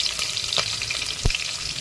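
Green chillies, onions and garlic fry in a pan with a close, bright sizzle, broken by a few quick stirring scrapes and one sharper clack of a utensil.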